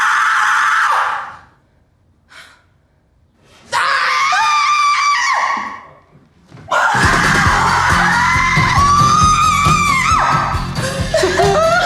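A crowd at a film world premiere screams loudly in long sustained bursts, broken by brief lulls, then rises into a dense, continuous shrieking roar that lasts to the end.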